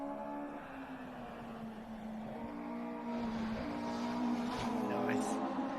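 A rally car on a special stage of the Otago Rally in New Zealand drones with a steady engine note that climbs as it draws closer and grows louder, and a voice talks over it.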